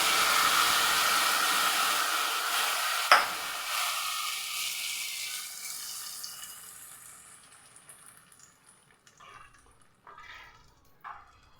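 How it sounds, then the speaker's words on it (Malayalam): Chilli powder tempering poured into a raw mango curry, a loud hiss of broadband sizzle with a sharp splash near the start that gradually dies away, leaving faint bubbling and small clinks at the end. "ഇനി നമുക്കിത് നമ്മുടെ കറിയിലേക്ക് അങ്ങ് ഒഴിച്ചു കൊടുക്കാം."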